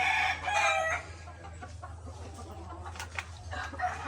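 A breeder trio of one broodcock and two brood hens on a small farm: loud clucking and squawking up close, with crow-like calls rising over a low steady hum.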